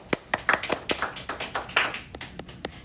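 Classroom clapping after a student explains factoring a quadratic, a small group of hands giving a short, fairly sparse run of distinct claps, near and moderately loud.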